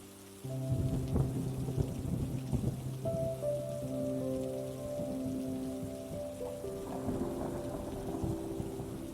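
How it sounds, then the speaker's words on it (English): Gentle rain falling steadily on a surface, a soft continuous patter with low rumbling underneath and a sustained musical tone layered over it. "The rain will keep watch while you sleep."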